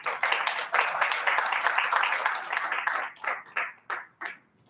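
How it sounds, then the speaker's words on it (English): A Toastmasters club meeting audience claps for an evaluator, a steady crowd applause that thins out toward the end into a few scattered individual claps before falling silent. "Please have you welcome with a huge round of applause"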